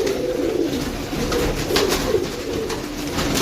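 A pigeon coos in soft, low repeated calls, close and clear over a steady background murmur.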